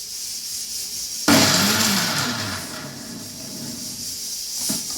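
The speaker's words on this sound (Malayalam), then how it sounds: "ഒരു 3 വിസിൽ കേൾക്കണം." A pressure cooker holding beef and koorka for an Angamaly-style dish lets out a loud, sudden steam whistle that hisses on steadily for a few seconds, close by.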